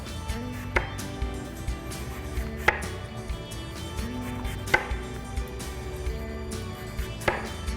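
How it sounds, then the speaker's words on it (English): A knife slicing downward through an apple toward the core, giving a few crisp cutting clicks spaced a second or two apart over a low background hum, close and fairly quiet, with no talking. "just slice downward here until you get to the core of the apple"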